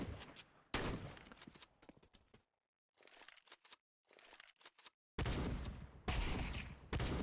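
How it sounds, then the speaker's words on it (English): Shotgun blasts in Counter-Strike 2, heard as several loud bursts separated by short silences, mixed with reload clicks and handling rattles, close and sharp, no talking. "I kind of like the new shotguns."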